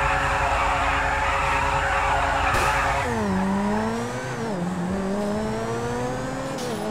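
A race car in the game GTA 5 roars at high revs with a steady engine drone, then its pitch dips and climbs as it shifts gears and accelerates, loud and continuous.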